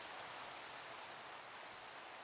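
Steady rain falling at night, a continuous even hiss of drops on surfaces with no other sounds and no talking.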